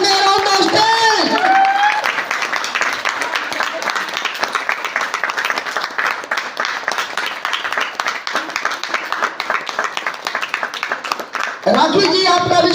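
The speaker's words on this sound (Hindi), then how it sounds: "खड़े होकर जोरदार ताली से उनका स्वागत करें" Audience at a Nainital and Jim Corbett achievers celebration applauds steadily for several seconds as honorees are welcomed to the stage, with crowd noise throughout and a voice speaking at the start and end.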